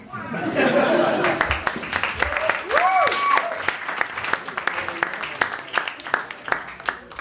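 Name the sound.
guests clapping during a best man speech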